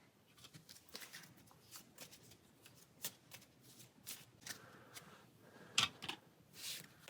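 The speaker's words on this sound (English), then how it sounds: "Take a random card that will be shuffled into the deck." Deck of cards shuffled during a solo tabletop session of the Pathfinder Adventure Card Game, a run of soft, riffling card flutters and taps with a few sharper snaps, close and fairly quiet, with no talking.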